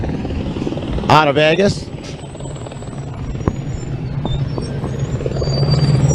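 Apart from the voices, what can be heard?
racing team helicopter flying over off-road race course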